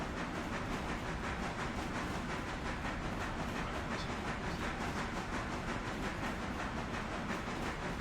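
A train running in the Railroader video game gives a steady, continuous rumble with rhythmic clickety-clack and some hiss, loud and unbroken for the whole stretch with no talk over it.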